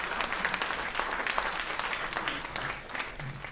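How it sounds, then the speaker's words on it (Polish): Warm applause from a concert audience at a recital honoring young performers and their parents, thick continuous clapping filling the hall, close and even before fading slightly at the end. "Wielkie brawa dla państwa i dla waszych rodziców."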